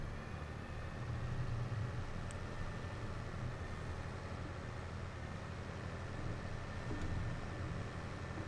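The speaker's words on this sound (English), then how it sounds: "let's get this tractor back to the farm" A tractor driving across fields in the video game Farming Simulator 25 gives a steady, muffled low engine rumble at an even level from start to finish, with no voices.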